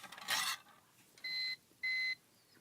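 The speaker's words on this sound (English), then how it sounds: "I guess it's beeping to let you know that there's no input" A Cyberpower uninterrupted power supply with no input gives two short electronic beeps, evenly spaced and fairly faint, after a brief rustle.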